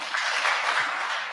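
Audience applause at a Kabarak KIPPRA 2022 mentorship programme session, a short, steady burst of clapping from a room full of people, moderately loud and even throughout.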